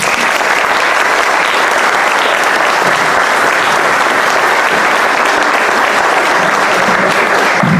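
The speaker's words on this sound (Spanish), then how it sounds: "Le pido un aplauso para él." Loud, sustained applause from a large audience at a lecture, steady clapping filling the whole stretch without a break.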